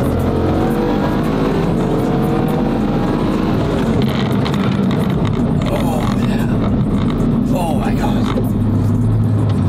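A car tuned to around 1,376 horsepower accelerates hard on a private runway, reaching about 122 mph, with a loud, continuous engine roar close by and excited voices talking over it.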